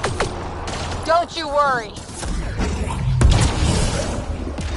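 Rapid gunfire bursts and booming shots from a firefight against Kett enemies in the video game Mass Effect Andromeda, with whooshing effects, sounding loud and continuous under several bursts of voiced talk.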